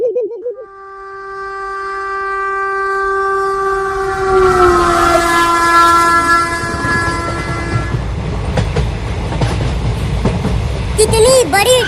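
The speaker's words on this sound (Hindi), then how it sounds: "वो देखो, आ गई ट्रेन।" A train pulls into a station with a loud, sustained horn whose pitch sags as it nears, followed by heavy rumbling, wheel clatter and a high squeal at the close.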